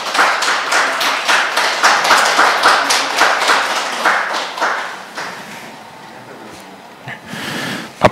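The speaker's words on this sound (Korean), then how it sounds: "큰 박수 부탁드리겠습니다" Audience clapping for award-winning council members at a disability independent-living center ceremony, a dense steady round of many hands that fades after about five seconds, leaving a quieter room with a few scattered claps at the end.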